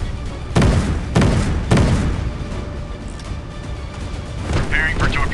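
Explosions from enemy hits on a warship in the mobile naval combat game Warship Mobile 2, three heavy booming impacts in quick succession followed by lingering rumble, with a voice speaking over the battle noise.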